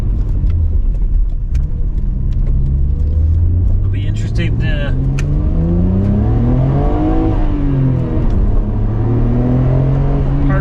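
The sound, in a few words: 1996 Nissan Skyline GT-R LM V-Spec engine accelerating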